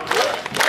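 Audience applauding and cheering at a festive celebration, a short burst of dense clapping and crowd noise that stays steady and fairly loud throughout.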